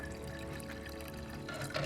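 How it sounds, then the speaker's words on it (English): Cold water pours steadily into a bowl for brining shrimp, a close, soft gurgling stream running throughout with a brief splashier swell near the end, no talking. "We're going to pour in the cold water."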